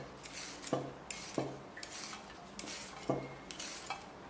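Chinese iron-stick yam being peeled with a metal peeler, a quiet series of scraping strokes with sharp metallic clicks about every second, close up and without talk.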